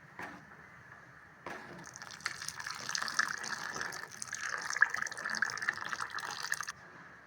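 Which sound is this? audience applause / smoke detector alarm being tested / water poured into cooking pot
water poured into cooking pot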